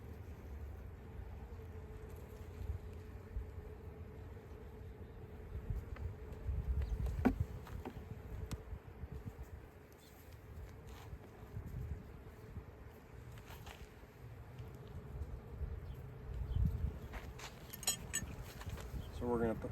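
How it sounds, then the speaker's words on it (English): Honey bees buzz around an open hive, a continuous low drone with passing nearer buzzes and occasional clinks of hive equipment, under intermittent talking. "just another look at these beautiful bees doing their"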